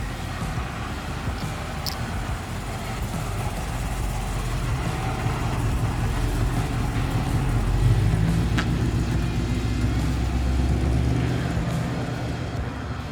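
A 650 hp supercharged LSA Chevy SS sedan drives along with a low, continuous engine rumble that swells gradually and then holds steady, with faint road noise and no talk.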